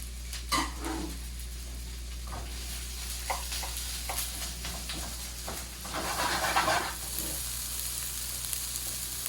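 White onion, leek and green onion fry in a pan for pad thai, with a steady close sizzle over a low hum and occasional stirring clatter.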